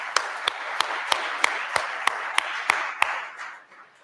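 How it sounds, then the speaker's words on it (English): Applause from a church congregation: a steady, evenly paced run of sharp claps over a broad wash of crowd clapping, fading out toward the end. "So a round of applause to you all."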